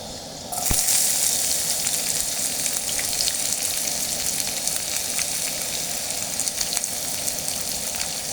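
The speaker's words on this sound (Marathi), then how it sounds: "त्याच्यामध्ये आता आपण कांदा टाकत आहोत." Sliced onion drops into hot oil with browned garlic in a pan, setting off a sudden loud sizzle that holds steady and bright, with a few faint clinks.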